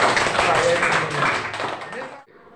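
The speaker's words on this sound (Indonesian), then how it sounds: "Tepuk tangan sekali ya." Classroom of students clapping together in a sustained, loud burst that stops abruptly, with voices mixed in.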